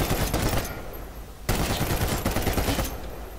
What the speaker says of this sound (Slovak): Lebo ja tu strieľam.